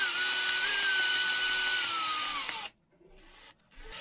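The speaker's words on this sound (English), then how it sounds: "If your screw has similar problem, then reverse drill a bit and try again." A power drill reverses a screw, whirring steadily and loud, pitch sagging slightly, then stops abruptly, followed by a couple of short quieter bursts.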